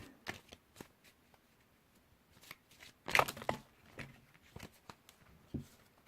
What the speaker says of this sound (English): Then shuffle up.